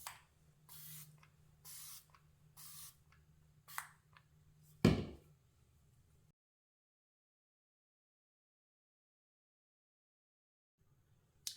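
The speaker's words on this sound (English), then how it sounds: "I'm going to spray it on both sides" Rimmel Stay Matte setting spray mists onto a face in several short, soft hissing bursts at close range, followed by a louder sharp puff and then near silence.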